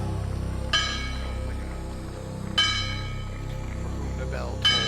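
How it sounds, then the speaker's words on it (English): Ring bell at a 1992 UWFi professional wrestling/MMA event, struck three times at spaced intervals with sharp metallic clangs that ring out briefly over a steady crowd and broadcast background hum. "the bell tolls"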